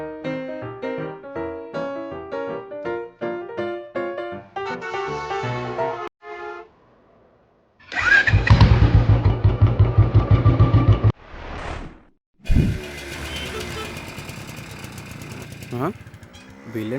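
A Royal Enfield Bullet motorcycle engine bursts in with a loud, heavy, rapid thumping for about three seconds, set between stretches of music and brief quiet gaps.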